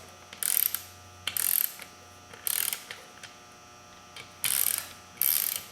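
A hand ratchet tightens beadlock rim bolts on a 2003 Polaris Ranger 6x6, giving five loud, close bursts of rapid pawl clicking with short pauses between them over a faint steady hum.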